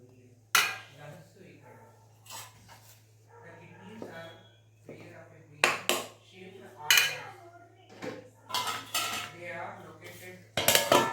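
A plate clanks onto a pot of rice kadubu and the pot is lifted off the stove, with sharp metallic clinks and scrapes scattered between quiet moments and some talking.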